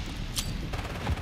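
Bursts of gunfire in the shooter Modern Warfare 3, a short sharp crack followed by scattered rattling shots, moderately loud and brief, with no talking.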